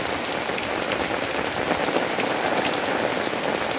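Rain falls steadily on Colocasia plants, a loud, dense, continuous patter of drops without any voices.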